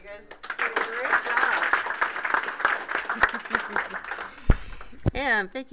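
Audience members at a game studio build review clap in a lively round, irregular sharp claps building then thinning out, with a voice speaking over the final moments.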